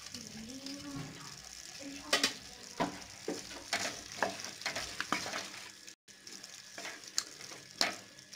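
Tomatoes sautéing in a small amount of oil for a low-oil chicken curry: steady close sizzling and frying, with scattered stirring clatter and a voice speaking briefly at the start.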